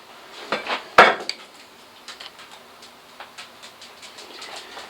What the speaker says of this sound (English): So we'll leave the skin on, cut it in quarters.